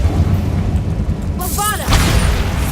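In the Hogwarts Legacy video game, an Incendio fire spell is cast with a sudden whooshing burst and a short crackling flare. A voice calls out over a low rumbling backdrop.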